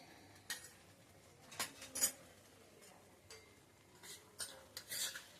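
Spice powders get stirred into a thick paste for egg kurma, the spoon clinking and scraping against a metal pot in scattered, uneven strokes. The sounds come close and fairly quiet over a hushed kitchen background.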